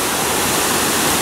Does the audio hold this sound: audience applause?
no